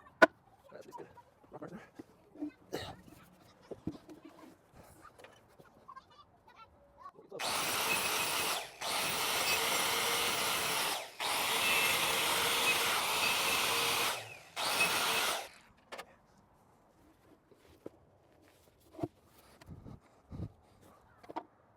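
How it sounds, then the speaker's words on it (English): A power grinder cutting into a wooden post to scribe it to fit against stone, two loud sustained grinding runs with a short break between, framed by quiet handling clatter and a person speaking briefly before and after. "So I'm going to grind a good area around that"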